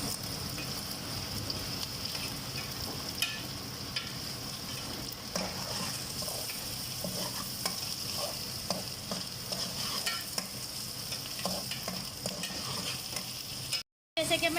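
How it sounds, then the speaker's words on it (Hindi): Onions frying in a pan for fried rice, a steady bright sizzle with stirring scrapes running continuously throughout, close and fairly loud with no talking. "अब प्याज को हम हल्का सा गोल्डन होने देंगे।"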